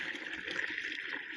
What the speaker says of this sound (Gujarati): પહેલાં પંપમાં થોડું પાણી નાખી લેશું આપણે